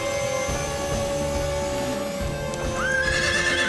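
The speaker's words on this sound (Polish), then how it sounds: "Ojej, ten hałas pewnie go wystraszył. Zaczekaj. No już, już. Słuchaj, ja będę uspokajać konia" A frightened horse neighs loudly over a busy background, with hoof clops and a rising mechanical whine toward the end.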